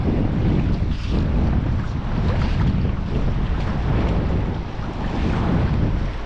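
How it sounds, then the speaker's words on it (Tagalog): Strong wind roars steadily and loudly across the microphone for the whole stretch, a dense buffeting rush near open water while fishing with a cast net, with no voices. "Lakas ng hangin."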